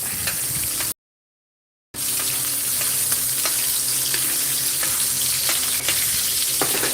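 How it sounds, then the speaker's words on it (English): A steak fries in a pan while being basted with butter, giving a loud, continuous close-up sizzle with crackling pops. The sizzle stops briefly near the start and then resumes. "right now I'm just gonna butter baste it"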